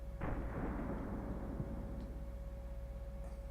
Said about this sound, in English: This is fully automatic fire.